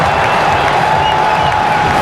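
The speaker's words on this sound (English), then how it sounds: "The crowd erupts." A cricket crowd at a 2011 World Cup match between India and Bangladesh erupts after a wicket, a dense, loud, continuous roar of cheering and applause filling the whole moment.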